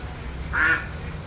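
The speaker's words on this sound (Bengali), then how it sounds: "কি সুন্দর হাঁস ঘুরে বেড়াচ্ছে" A duck near the Mahanirban monastery gives a single clear quack midway through, set against quiet outdoor background noise.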